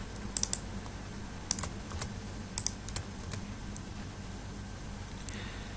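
Typing on a computer keyboard, a steady patter of light key clicks with a few sharper taps, heard close over a constant low background hum.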